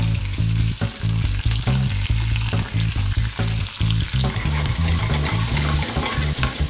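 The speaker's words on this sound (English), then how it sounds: "Put the butter straight in. Garlic on top." Jumbo tiger prawn frying in butter with garlic, a loud, close, steady sizzle and crackle with rhythmic pulsing bubbling throughout and no voices.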